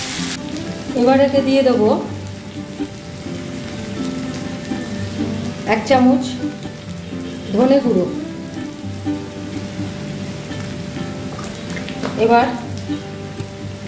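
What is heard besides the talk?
potatoes and pumpkin frying in oil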